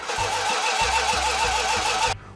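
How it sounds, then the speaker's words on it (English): On a run stand, a Dodge Super Bee engine turns over with steady, pulsing starter cranks, loud and close, before cutting off abruptly near the end. "We had to do a few minor adjustments to get her to kick over and fire off."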